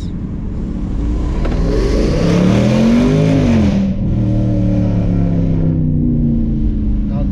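Range Rover SVR supercharged engine revving hard at full power, a loud, close, sustained roar with rising pitch that peaks, dips briefly, then keeps running strong to the end, no talking over it.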